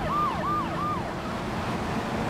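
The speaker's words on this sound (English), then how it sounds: "Damn, but this ambulance is going fast." Ambulance siren in the video game Grand Theft Auto 3, a wailing electronic tone rising and falling in three quick sweeps and then fading, heard over a faint engine and traffic hum.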